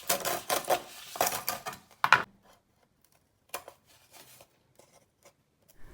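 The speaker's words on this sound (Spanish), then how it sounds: "ya puedo empezar a cortar sin ningún problema" Scissors snip through soft balsa wood in a rapid run of crisp, close cuts, then a sharp clack and a pause before a few slower, quieter snips follow.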